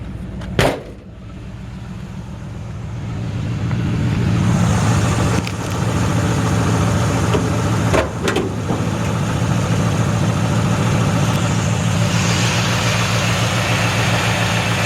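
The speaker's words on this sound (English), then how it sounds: "Nice old truck exhaust sound to it." A 1957 Chevy 3100 truck engine idles steadily in neutral with a deep, rumbling exhaust note, running continuously up close after a brief knock at the start.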